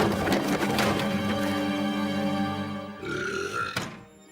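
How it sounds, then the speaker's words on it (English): A long, loud burp from a Doctor Who episode rumbles steadily for about three seconds, then shifts into a higher, strained tail before cutting off. "people hated the burp"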